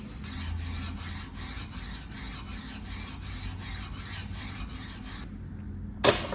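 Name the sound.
rasping a log with coarse and smooth sides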